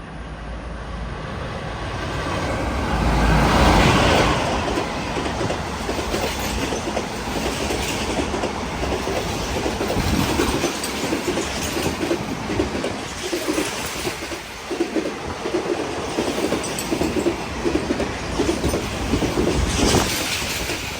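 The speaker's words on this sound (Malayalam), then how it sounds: "ഇൻ്റർസിറ്റി വരുന്നുണ്ട്. Coimbatore junction intercity express." Coimbatore Junction Intercity Express passing a railway station, a continuous rumble with clickety-clack of wagons rolling by, loudest early, with birds calling faintly in the background.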